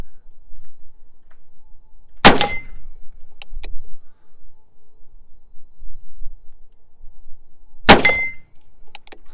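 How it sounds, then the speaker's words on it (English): Two sharp, loud shots from a Colt 3rd Model Dragoon revolver firing big Dragoon bullets at a swinging steel plate target, spaced several seconds apart, with faint metallic ticks between them and no talk. "now let's see how the big Dragoon bullets do in the Colt Dragoon"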